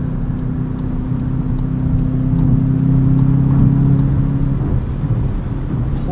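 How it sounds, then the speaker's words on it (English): Cabin drone of a 2022 Volkswagen Jetta GLI with a 2-liter turbo engine and 6-speed manual pulling under acceleration, steady and loud, with a low engine hum that rises slightly before settling. "Plenty of power here, quite a bit of torque from this 2-liter turbo."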